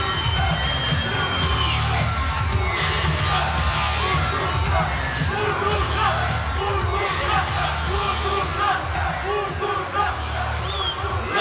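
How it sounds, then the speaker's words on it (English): A boxing arena crowd rises in a standing ovation after an extra round in a final fight, loud sustained cheering, whooping and yelling filling the space, with shouting voices mixed throughout. "Standing ovation."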